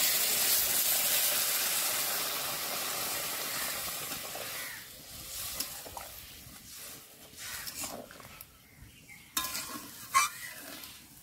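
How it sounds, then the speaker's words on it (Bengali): Hot water poured into spice masala frying in a pan for a soybean curry, a loud hissing sizzle at first that gradually settles into softer bubbling, with a few clinks of a utensil. "গরম জল দিচ্ছি, এখানে গরম জলটা দিলেই ভালো হয়।"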